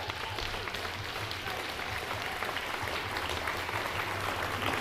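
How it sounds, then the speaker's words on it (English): Audience applause for Crank Climbing, the host venue, at the Queensland State Lead climbing finals, a steady wash of clapping sustained throughout over a low hum, fairly distant and even. "big round of applause for Crank Climbing"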